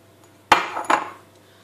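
A utensil stirs chocolate into egg yolks in a bowl for a flourless cake: two sharp clinks and scrapes against the bowl, close and fairly loud, then quiet.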